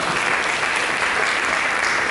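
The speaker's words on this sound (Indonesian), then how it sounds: "Mari kita berikan tepuk tangan bagi Yesus." A church congregation claps together in sustained, dense applause during a Sunday sermon, steady and loud throughout with no break.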